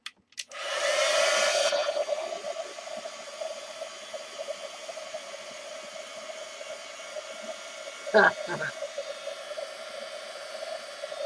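A handheld dryer blasts air over wet paint on burlap for about a second and a half, loud and close, then cuts off, leaving a faint hum and a brief clatter later.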